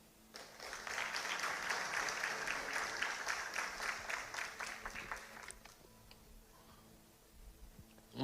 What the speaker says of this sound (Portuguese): Você pode ir aplaudir o Senhor